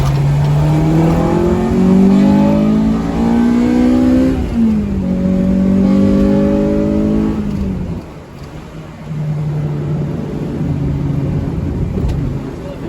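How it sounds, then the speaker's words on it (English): A Honda Civic engine revs hard and climbs in pitch into VTEC, drops briefly on a shift, pulls again, then eases off and settles to a lower drone, heard from inside the car with no voices. "VTEC is cracking really good"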